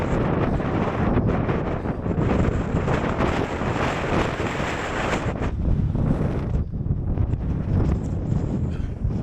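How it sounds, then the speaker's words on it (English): Strong wind roars across an exposed mountain top, a loud, continuous buffeting rush that batters the microphone with gusts and no voices. "it is incredibly windy on top of this mountain"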